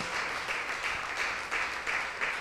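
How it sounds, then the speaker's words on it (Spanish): A small church audience at a Spanish-language Bible teaching gives a faint, steady round of clapping, soft and somewhat distant, with no voices over it. "Démosle un aplauso a toda la gente linda"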